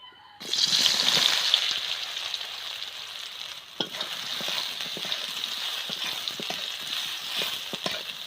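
Soybean chunks hit hot oil and fry with a steady, close sizzle and crackle. Occasional stirring clicks and scrapes sound over the bubbling, and no one talks.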